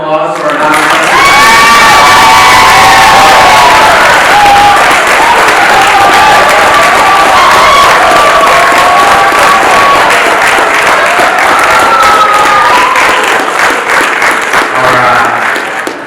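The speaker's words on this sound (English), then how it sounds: "can we get a round of applause for our novice?" Loud, sustained applause and cheering from a crowd at a youth wrestling banquet, with whoops and children's shouts mixed in, lasting throughout before tapering near the end.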